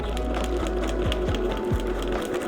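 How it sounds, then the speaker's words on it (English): Sewing machine stitching bias tape onto Reflectix insulation, a steady close mechanical whir with a rapid needle rhythm and a few heavier thumps as the thick material is pushed through. "I'm trying to sew the bias tape onto the wrong side of the Reflectix"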